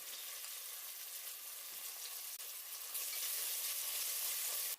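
Onion, bay leaves, cardamom and cloves fry in hot ghee for mutton biryani, giving a steady, dense sizzle that swells a little louder partway through, with no talk.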